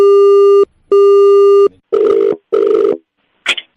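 A telephone line gives two long steady tones, then two shorter buzzier beeps, followed by a brief click, loud and alone.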